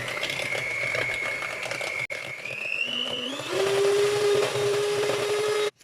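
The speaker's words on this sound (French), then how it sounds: "De là, on va mixer." Electric hand mixer whirring steadily as it beats eggs with sugar for marbled cookie batter, its motor pitch stepping up partway through as the speed rises, close and loud with no talk.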